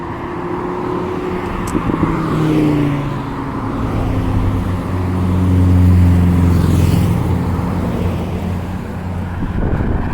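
Steady road noise from a vehicle moving at highway speed, with tire roar, engine drone and some wind buffeting throughout.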